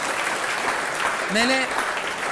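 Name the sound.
audience applause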